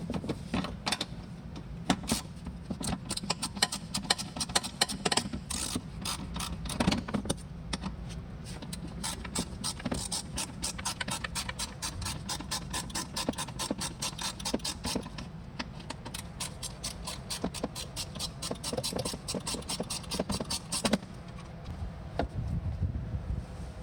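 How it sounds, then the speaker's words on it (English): Rapid ratcheting clicks from a 10 mm socket wrench loosening a bolt behind the rear bumper of a 2012-2017 Hyundai Veloster, a dense run of close, sharp ticks with brief pauses, no talking. "You're gonna remove that with a 10 millimeter."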